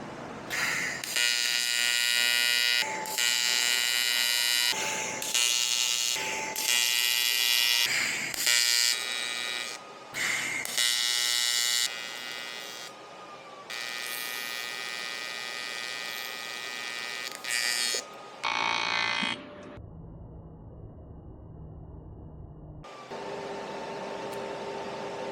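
A welder tack-welds a pie-cut Y pipe merge, giving a loud, harsh electric buzz in a series of short bursts with abrupt gaps. A low hum fills the pauses, and one quieter stretch comes near the end.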